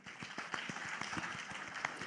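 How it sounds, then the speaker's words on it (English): An audience at a BIDA digital economy conference in Bangladesh gives a round of applause for Uber, a dense, steady patter of many hands clapping, faint and distant. "big round of applause for Uber"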